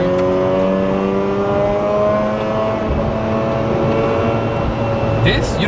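A car engine revs hard through third gear while driving near railroad tracks, with a steady loud drone, rising harmonics and a few sharp pops near the end; people talk over it.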